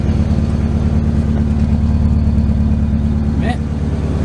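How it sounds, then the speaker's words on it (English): A car engine with an exhaust leak idles with a loud, low, rhythmic chugging rumble throughout, and a short voice cuts in near the end. "You got an exhaust leak."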